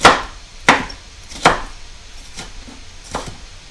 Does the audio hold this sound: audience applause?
no